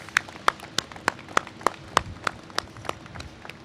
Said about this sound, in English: I would like a round of applause for the women and men of the building trades